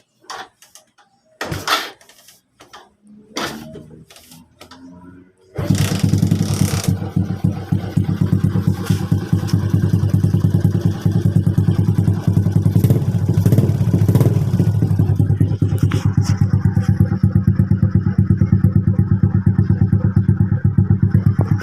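After a few clanks and clatters, a motorcycle fitted with a new exhaust pipe starts and runs loud and steady at close range, its rough, pulsing idle continuing to the end.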